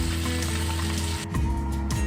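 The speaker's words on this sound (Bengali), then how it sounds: "এভাবে নেড়ে নিয়ে উল্টে পাল্টে মাছগুলো লালচে করে ভেজে নেব" Small dhutura fish sizzling in a pan while being fried and turned: a steady, loud hiss of hot oil throughout, with a brief clatter near the end as the fish are stirred.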